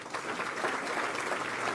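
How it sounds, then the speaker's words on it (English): Audience in a hall clapping for city general managers at a mayor's State of the City address, a steady, dense wash of applause with no break. "You can clap for them all."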